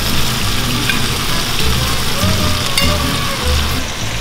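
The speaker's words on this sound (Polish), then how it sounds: "Wrzucę resztę warzyw." Vegetables for a pork neck roast sizzle and crackle steadily in a hot pot, with occasional stirring clatter, loud and close.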